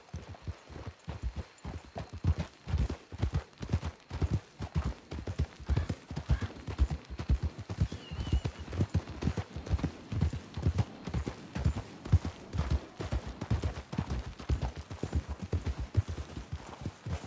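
Horse hooves in Red Dead Redemption 2 pound in a fast, steady galloping rhythm throughout, fairly close, with a continuous thudding clip-clop and no talking.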